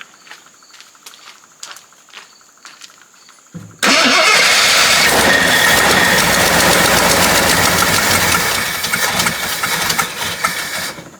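A vintage 52-year-old Jeep Wagoneer cranks with a quiet, rhythmic starter whir for a few seconds. The engine then catches into a loud, rough roar that settles into a steady close idle, with no talking.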